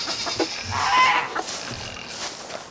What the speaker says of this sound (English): Those are all chicken littles.